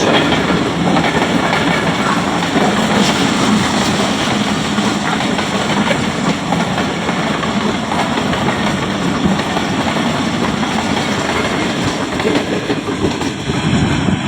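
The Jaffar Express, carrying a Pakistan Post coach, passes Gujranwala Cantt railway station at about 80 km/h: a loud, continuous close rumble of wheels and coaches with steady rail clatter throughout.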